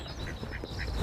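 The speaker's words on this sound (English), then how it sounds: "Try not to disturb any of the ducks, geese or any of the birds." Ducks quack at a lake among geese and other birds, a few repeated quacks at a moderate distance over steady wind and outdoor background noise.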